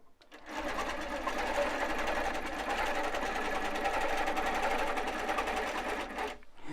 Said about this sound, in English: I'm just going to stitch down this side.